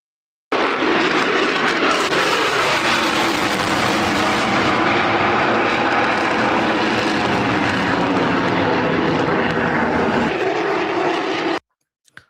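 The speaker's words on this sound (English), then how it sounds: "And the F-22 Raptors are ready to fly." F-22 Raptor fighter jets flying, a loud continuous roar that starts abruptly, holds strong and steady for about eleven seconds, then cuts off, with no talk over it.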